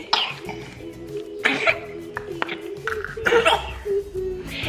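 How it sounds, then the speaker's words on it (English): Several short, wet coughs from a baby with a cold and congested, runny nose come in bursts, close by, with breathy sounds between them. "She coughs a lot."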